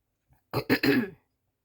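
A brief throat clearing followed by a couple of short harsh coughs, close and loud, then silence.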